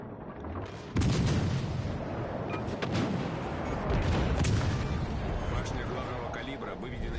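Heavy naval gunfire booms from a warship in World of Warships: Legends, a loud sustained roar of cannon blasts and rumbling after an opening salvo, with someone talking over it.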